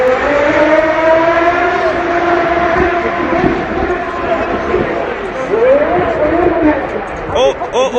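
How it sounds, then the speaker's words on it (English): Damaged Porsche Carrera GT, a Gemballa, wrecked in New York City and revving hard as it flees the scene while dragging a tire, loud rising and falling engine wails mixed with crowd voices and street noise. "he was revving that thing up and he was really trying to get out of there quick"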